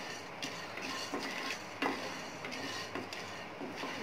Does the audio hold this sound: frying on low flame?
yes